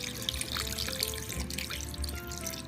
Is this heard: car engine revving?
no